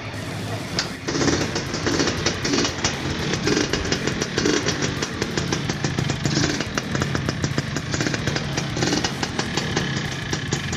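A Yamaha RX-King motorcycle engine idling nearby with a rapid, buzzy two-stroke rattle, steady and continuous for the whole stretch.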